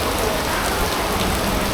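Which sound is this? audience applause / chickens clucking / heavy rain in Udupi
heavy rain in Udupi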